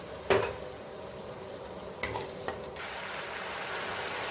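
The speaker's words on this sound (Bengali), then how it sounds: "অল্প একটু জল দিয়ে দিচ্ছি যাতে মশলাটা পুড়ে না যায়" A splash of water goes into spices frying in a pan, bringing a sharp clink of a utensil, then a steady close sizzle with a few more light metal taps and scrapes as the spices cook.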